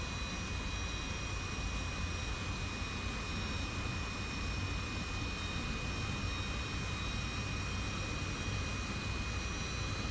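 A steady broadband jet roar from an F-86 in a flight video game, a dense, continuous rush with a thin high whine running through it for the whole stretch, holding level as engine power comes back up after a reignition attempt.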